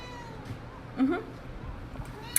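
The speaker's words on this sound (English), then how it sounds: "There's my cat." A house cat meows once, faint and brief, through a quiet room with soft background noise and a light click near the end.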